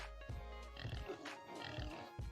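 Pigs in Farming Simulator 25 grunt and oink in a low, rough series of short snorts, fairly faint and close, with no talking over them.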